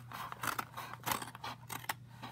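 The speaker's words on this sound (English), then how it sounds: "I am using some leather cutting scissors. So these are very sharp." Sharp leather-cutting scissors snipping out a leather square for a model horse saddle, a series of close, crisp clipping strokes with small mechanical clicks, irregular in rhythm and fairly quiet.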